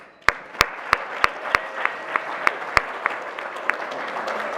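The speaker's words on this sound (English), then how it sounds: "how about one more big round of applause for Jennifer French" Applause from the audience at a nonprofit organizations awards celebration, honoring Jennifer French. Sharp, loud claps land in a steady rhythm over a softer wash of crowd clapping that fades in after the start.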